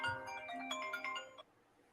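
A mobile phone ringtone plays a bright, tonal melody of quick chiming notes close by, stopping abruptly partway through and leaving near silence.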